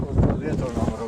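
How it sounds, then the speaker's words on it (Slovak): Outdoor wind buffets the microphone in low rumbling gusts at a pigeon flock release, mixed with faint voices and background noise. "Ten vietor, áno, ten vietor trošičku robí problém."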